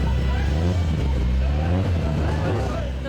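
Jimmy McRae's Vauxhall Firenze Can-Am rally car at a historic rally in Killarney runs with a deep, loud engine note that rises and falls in revs, while a commentator speaks over it.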